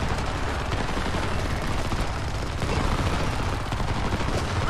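Heavy gunfire fills a Homefront battle scene, a dense, continuous barrage of overlapping rifle and machine-gun shots with no pauses, loud and close throughout.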